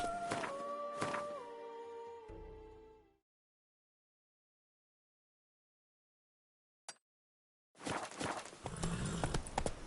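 Geralt's horse Roach galloping in The Witcher 3: Blood and Wine, a steady clip-clop of hooves with game music over it, then a stretch of near silence, then loud hoofbeats rushing back in.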